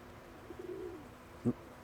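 A pigeon in a backyard loft gives a low, soft coo, one drawn-out rolling call near the middle of the moment, followed by a brief, sharper sound close by.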